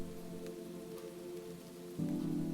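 Steady autumn rain falls evenly throughout, a soft continuous patter set against sustained tonal hum, growing slightly fuller near the end.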